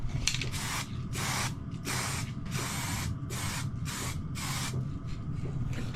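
Aerosol spray of an underseal-like coating applied to a rotten Yamaha XT660 motorcycle exhaust during repair: a series of close, loud hissing spray bursts, roughly a second each, separated by brief gaps.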